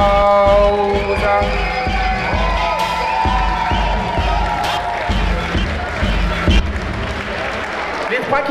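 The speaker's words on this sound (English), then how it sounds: "give her a round of applause" Crowd at a vogue ball applauding and cheering, loud sustained clapping with whoops and shouts, and a voice talking over it near the start.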